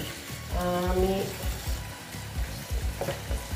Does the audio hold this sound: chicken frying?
yes